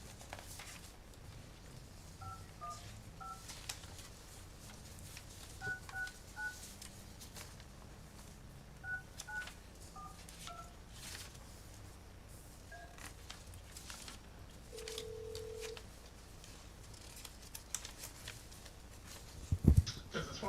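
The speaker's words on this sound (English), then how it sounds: "We're gonna get Forrest on the phone." Telephone keypad tones dial into a joint city council and utility board meeting, several quick clusters of faint beeps in a quiet room with low background murmur and occasional handling noises.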